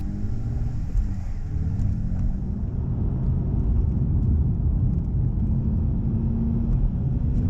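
A car drives on the Nürburgring GP track at moderate pace while tires and brakes warm up, a steady loud in-cabin engine and road rumble with no talking.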